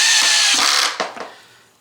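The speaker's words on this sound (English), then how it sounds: "you just run the last 5 screws here on the bottom" A power drill runs screws into the bottom of an old Bissell vacuum, whirring loudly for under a second before winding down, followed by two short clicking bursts as it stops.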